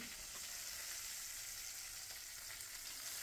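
Curry leaves and green chillies crackle and sizzle in hot oil in a pan, a steady close frying hiss with no one speaking.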